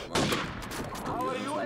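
Gunfire in a first-person shooter game, a short burst of sharp shots up close with dense rattling reports, heard alone in under two seconds.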